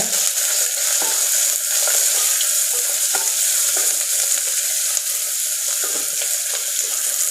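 Onions and garlic sautéing with asafoetida for idli sambar, a steady close sizzle with frequent light scrapes and stirring taps of a spoon in the pan, with no talking.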